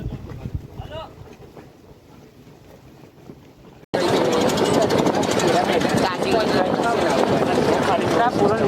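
Motor boats ferrying visitors to a temple at Angadh, heard as a loud, continuous engine and water drone with heavy wind buffeting, after a quieter stretch where someone talks.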